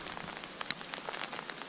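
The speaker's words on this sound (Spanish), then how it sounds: "Mirad cómo cae granizo." Hail falling at Maigmó, a dense, steady patter of small pellets striking surfaces, with scattered sharper individual clicks and taps rising above the continuous hiss.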